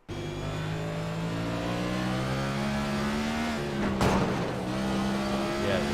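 A race car at Martinsville Speedway revs high and steady, its engine tone climbing then easing. A brief burst of tire spin breaks in near the end, and a voice speaks faintly underneath.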